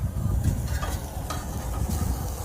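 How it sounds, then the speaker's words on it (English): Steady crackling sizzle of food frying in a pan, continuous and fairly close, with faint stirring or scraping sounds mixed in. "I'm hearing sizzling, I'm smelling good smells from the pan."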